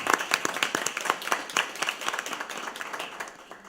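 A crowd at a regular school board meeting applauds student athletes. The clapping is lively and close, with sharp individual claps, and it tapers off over a few seconds.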